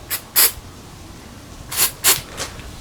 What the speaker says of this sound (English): you want to go ahead and give it a good spray